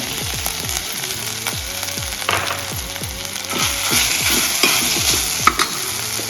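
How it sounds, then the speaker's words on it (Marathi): Grated pumpkin is sautéed and stirred in a pan for a fasting kheer, with rhythmic, repeated scraping strokes of a spoon over a constant close sizzle. "किसलेला भोपळा यात घालून घेऊ एक दोन मिनिट आपण ह्याला परतून घ्यायचं"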